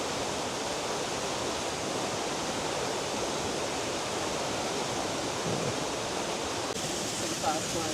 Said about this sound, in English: Some fast flowing water. There's a lot of water moving through this.